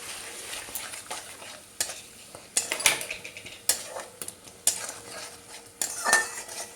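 Spice paste of chilli, coriander and cumin powders with a little sugar and water fries in a pan, a low sizzle under repeated sharp scrapes and clinks of a utensil stirring against the metal.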